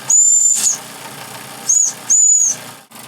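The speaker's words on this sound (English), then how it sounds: "Try the whistle." A 1914 Meccano model steam engine sounds its steam whistle in three high, piercing blasts. The first is long, the second brief and the third medium, each with a breathy steam hiss at the edges and quiet gaps between them.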